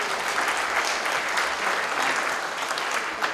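Audience at a live stage show with Dave Courtney and Carlton Leach breaking into sustained applause, dense crowd clapping at steady volume with scattered individual claps standing out.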